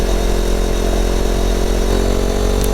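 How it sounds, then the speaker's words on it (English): A CFMoto 700 CL-X motorcycle exhaust in sport mode drones loudly and steadily up close, a deep, rough, continuous rumble with no talking. "You can actually hear the difference when I switch that mode to the exhaust sound."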